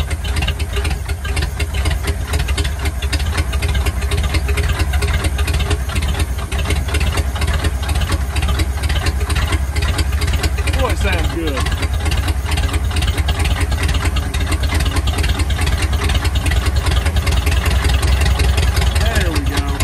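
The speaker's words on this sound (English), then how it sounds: "Boy, them flatheads sound so good. Listen to that thing." A 1950 Ford flatbed truck's flathead V8 runs steadily close by, a continuous low rumbling idle with slight unevenness and a brief rise in revs, with someone talking over it.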